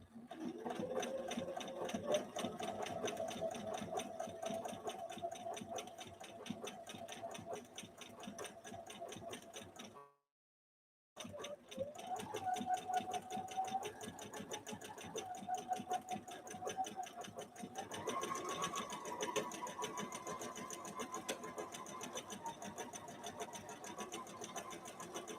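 Bernina Activa 130 sewing machine stitching steadily in a continuous mechanical whir, close and loud, running for about ten seconds, pausing briefly, then resuming with a slightly higher-pitched run near the end.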